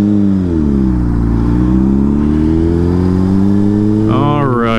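A 2006 Honda CBR600RR inline-four sportbike revs hard and close, its engine note climbing and holding high, then rising sharply again near the end, loud and alone without talk.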